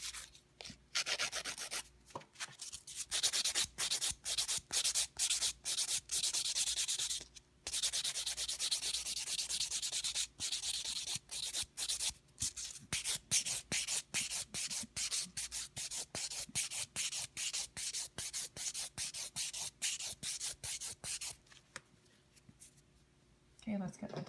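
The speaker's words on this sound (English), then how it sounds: "I'm filing a little bit differently on myself than I would a client too" A nail file rubs back and forth on a sculpted gel nail in quick, rhythmic rasping strokes, close and steady with brief pauses.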